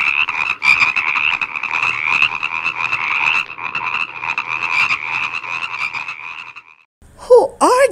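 A dense, continuous chorus of frogs croaking, loud and steady, ending abruptly with a few brief squeaky sounds.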